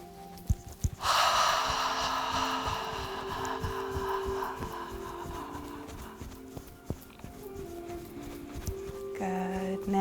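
Qigong breathing, a long audible inhale followed by slow exhalation, close and breathy, with a soft steady airflow and faint background sounds.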